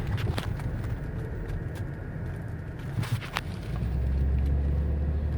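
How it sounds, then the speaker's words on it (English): A 2017 Ford F-250 Super Duty pickup rolls slowly along a street in Wauwatosa, Wisconsin, a low engine rumble with scattered clicks that swells louder toward the end. "So I'm going to drive as slow as I can."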